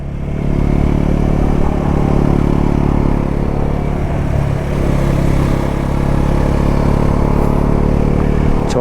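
Motorcycle in fourth gear climbing a mountain road between Kargil and Leh in Ladakh, a steady loud engine drone with rattling clatter and wind noise that carries on unbroken, with no talk.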